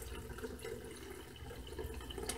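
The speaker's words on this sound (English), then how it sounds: "I'm gonna pour the water into this one." Water poured into a plastic bottle, a faint steady splashing trickle that runs continuously for a couple of seconds with small gurgling bursts near the end.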